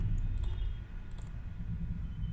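A few quick computer keyboard taps while typing a DNS server address, light isolated clicks in two small bursts over a low steady room hum, no talking.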